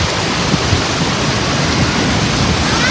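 Heavy monsoon rain pours steadily outdoors near a temple, a loud dense unbroken hiss of water with no voices.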